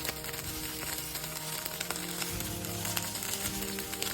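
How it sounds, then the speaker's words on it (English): Broccoli sizzling and frying in extra virgin olive oil in a hot pan, a steady crackling hiss with scattered pops, close and continuous throughout. "I'm starting with a little bit of extra virgin olive oil in the pan, and I'm going to just place these in."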